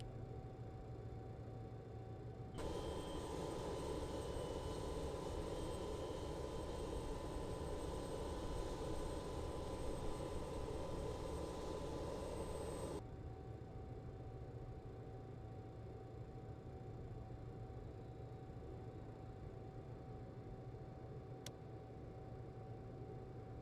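Engines of a BAe146-300 jet spool up in the X-Plane 11 flight simulator as a steady whining hum with a sustained tone. The hum gets louder for about ten seconds, then drops back to a lower, steady drone.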